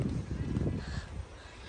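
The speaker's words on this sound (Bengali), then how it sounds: "পাখির কিচিরমিচির যে সাউন্ড, এটা শুনতে পারেন।" Birds call outdoors on a spring day in Berlin, a few harsh caws rising over a low, continuous hum of street noise.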